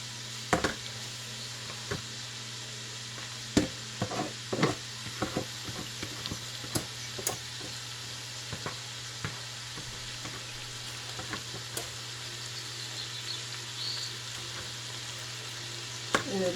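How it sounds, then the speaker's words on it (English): Drained leeks sautéing in a pan over medium heat: a steady, close sizzle runs throughout, broken by frequent sharp clicks and taps of a utensil stirring. "I want to saute these. I have it on medium heat."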